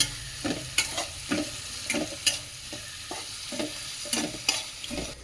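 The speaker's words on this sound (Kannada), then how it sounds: "ಟೊಮೊಟೊನೂ ಚೆನ್ನಾಗಿ ಕಂದಬೇಕು." Tomatoes fry in a hot tempering of onions and spices while a spoon stirs them, giving a continuous sizzle broken by regular scraping strokes, close and alone.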